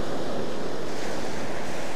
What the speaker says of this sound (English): another tide's just coming in like it is right now and then washes the white water in even farther